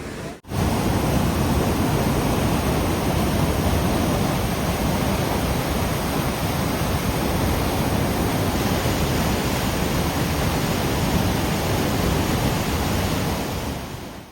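A waterfall pours with great force, a loud, steady, dense roar filling the whole stretch without pause.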